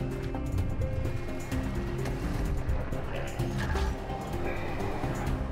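Underwater swimming sounds from Call of Duty Modern Warfare II Resurgence, a continuous murky splashing and bubbling wash with a low rumble, steady and fairly close throughout.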